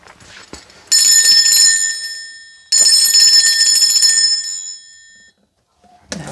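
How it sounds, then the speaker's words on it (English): A metal bell rings loudly in two long sustained bursts, each bright tone slowly fading, with a short gap between them and a brief clatter at the very end. "I am going to be ringing this bell."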